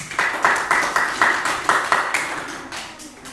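Rhythmic clapping from a small classroom audience applauding a student group presentation, roughly a dozen steady, close claps that slow and fade toward the end.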